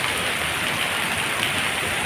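Heavy rain falls in a dense, unbroken hiss, loud and close, holding steady for the whole two seconds.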